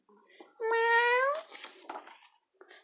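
A cat lets out one drawn-out, rising meow up close, followed by softer rustling and faint sounds in a quiet room.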